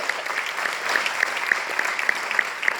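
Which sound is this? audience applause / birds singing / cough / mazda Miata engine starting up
audience applause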